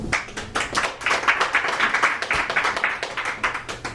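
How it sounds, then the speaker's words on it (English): An audience at a book launch claps in a small group, with distinct, fairly close hand claps in an uneven rhythm that rise and fall over a few seconds. "So I want to give her also a round of applause for Leslie."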